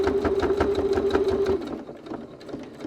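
Sewing machine running a back stitch on a cylindrical fabric case, a steady rapid whirring with regular needle ticks, stopping partway and leaving quieter handling noise.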